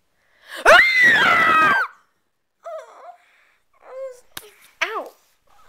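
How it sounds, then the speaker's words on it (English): A person gives one long loud scream close by to wake someone, followed by shorter squealing cries and vocal sounds with gaps between them. "I'm going to, like, scream and,"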